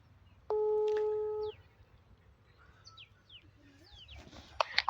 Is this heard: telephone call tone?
yes